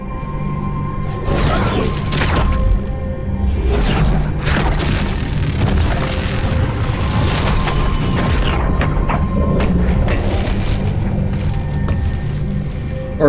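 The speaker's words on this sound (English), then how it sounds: "Bombs!" Bombs going off in Metroid Dread, a run of deep booming blasts spaced irregularly over a steady game soundtrack, loud and close.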